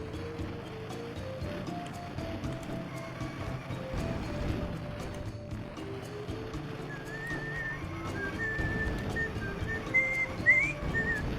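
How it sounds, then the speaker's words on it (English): A person whistles a wandering melody, a thin tonal line rising and falling over steady background game sound during a kart-racing stream. "Sorry, I'll stop whistling."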